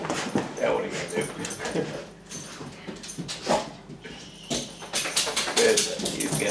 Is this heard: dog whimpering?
yes